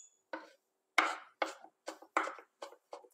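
Pickled cucumbers are chopped finely on a board with a knife, about eight crisp, close cuts in an uneven rhythm against near silence.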